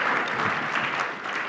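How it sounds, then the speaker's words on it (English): Audience applause fills a keynote hall at a digital leadership conference, steady and dense clapping from a large crowd throughout, fairly close and even in loudness. "Give him a round of applause."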